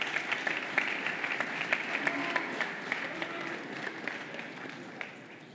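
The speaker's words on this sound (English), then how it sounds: "Give them a round of applause." Sustained applause from an audience after a student candidates' debate at a Boys State event, a dense, steady patter of many hands clapping in a large room, continuing evenly for several seconds at moderate distance.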